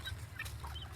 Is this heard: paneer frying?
no